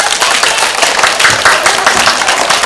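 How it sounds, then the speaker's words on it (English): Audience applause at a live animal presentation, steady dense clapping from a crowd filling the whole stretch without pause. "Everybody give a big round of applause."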